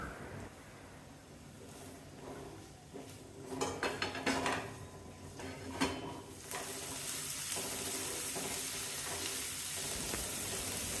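Onion, green chillies and curry leaves sautéing in a pan for a quick egg masala, a steady broadband sizzle that swells after a few seconds, with scattered clinks and scrapes of a utensil against the pan.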